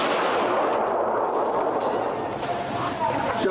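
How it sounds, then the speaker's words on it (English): Gunfire in a played-back police bodycam video, with several sharp loud shots and bursts over a noisy, rumbling background, heard alone without clear talk. "That's a shot fired right there."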